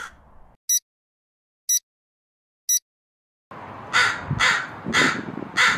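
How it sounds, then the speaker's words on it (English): Three short beeps sound in silence, then crows caw loudly nearby in a quick series of four or five harsh calls. "Crows cawing."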